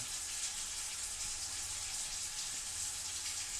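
Steady gushing of water from a tap fed by a gas water heater, a constant broadband hiss with no voices.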